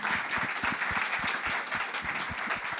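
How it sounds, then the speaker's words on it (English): A live podcast audience gives a DJ panel a big round of applause, dense steady clapping that stays loud and even throughout, with no talking over it. "Can we give a massive round of applause to the best panel we've had, CB, Tony, Lords, and Euan"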